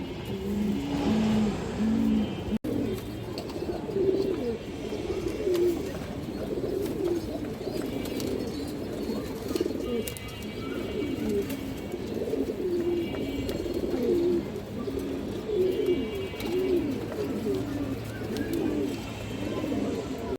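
Pigeons coo in repeated, overlapping throaty phrases, among them a female jag-necked pigeon, against a steady background hum.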